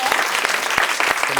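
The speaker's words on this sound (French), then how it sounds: "Je pense qu'on peut l'applaudir." Audience applause fills a lecture-style event, dense and steady with a few sharp, distinct claps standing out near the front.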